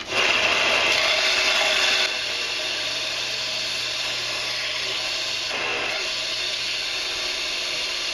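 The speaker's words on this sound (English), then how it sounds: "I'm going to be sanding this until it's nice and square" Steady abrasive rasping of sandpaper on a wooden block, loud and continuous at first, then settling into a softer, even scraping that runs on without pause.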